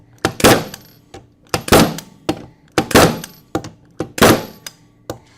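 A power tool sets Flexco BR rivets through a solid plate in a guide block on a conveyor belt, firing as sharp metallic thunks that come in steady repeated pairs, loud and close, with no talk.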